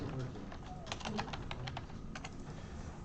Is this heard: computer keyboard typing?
yes